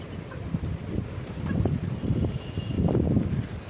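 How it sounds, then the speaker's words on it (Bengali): Gusty wind buffets the microphone in uneven low rumbling surges, with a faint hiss behind it and no voices. "আজকে সারাদিন ধরে এরকম বাতাস ছিল"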